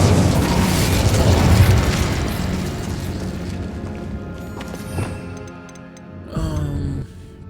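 An Incendio fire spell cast in Hogwarts Legacy erupts as a loud, roaring burst of flame that slowly fades over several seconds, followed by a few small ticks and a brief tonal flourish.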